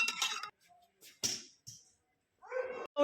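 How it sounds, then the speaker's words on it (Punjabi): A dog barks close by, giving a few short, sharp barks separated by brief quiet gaps. "ਕਦੇ ਕੁੱਤਾ ਭੌਂਕੀ ਜਾਂਦਾ ਕੋਲ ਹੈ"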